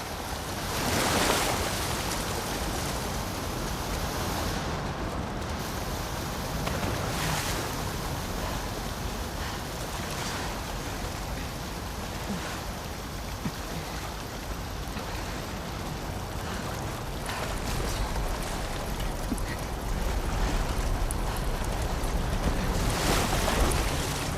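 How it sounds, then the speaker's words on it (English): A fast-flowing torrent of water in a level of The Last of Us Part II roars steadily and evenly throughout, dense and loud like heavy surf, with no voices. "the player was faced with a fast-flowing torrent of water they couldn't cross"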